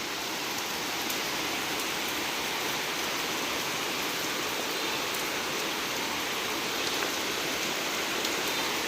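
Steady, dense rain falls on a pond without pause, a continuous even hiss with no voices.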